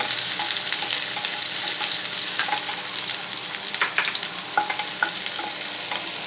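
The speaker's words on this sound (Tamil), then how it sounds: "இந்த சின்ன வெங்காயம் கொஞ்சம் நல்லா இந்த எண்ணெயில் வேக வச்சுக்கணும்." Small onions frying in hot oil, with a steady close sizzle and stirring scrapes and taps against the pan, no voices.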